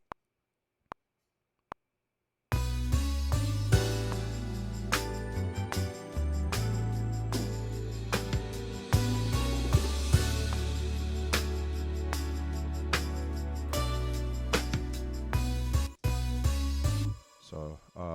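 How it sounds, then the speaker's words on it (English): A pop arrangement in Logic Pro plays a string line that copies the bass line, dense and loud over full backing after a few faint clicks at the start, with no talking. "I'm going to do a string line, just basically copying that bass line."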